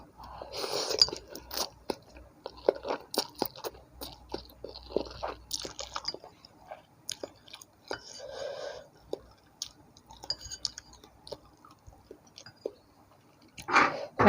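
Close, wet chewing and slurping of Samyang Hot Chicken Flavor instant ramen noodles, with repeated soft smacks, crunches and squishes in an irregular rhythm.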